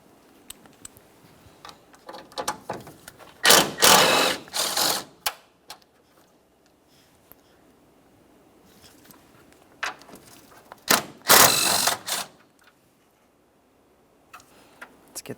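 A ratchet loosens the 10mm mounting bolts on the upper radiator bulkhead of a 2012-2015 Honda Civic 1.8L L4, giving two close bursts of rapid clicking with scattered ticks and handling noises between them and no talk.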